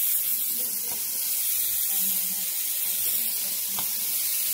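Bacon strips fry in a hot pan with a steady, loud crackling sizzle, a few pops rising out of the hiss.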